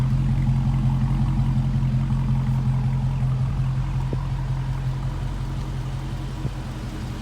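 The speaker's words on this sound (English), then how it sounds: "Just hear that rumble." A 2018 Dodge Charger R/T 392 Daytona engine idles steadily, a deep continuous rumble at close range, low and throaty, with no talking over it.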